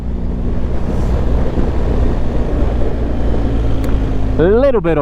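A BMW R1250GS motorcycle engine drones steadily at low revs while riding, with a deep continuous hum under heavy wind rush, and a brief rising and falling whine near the end.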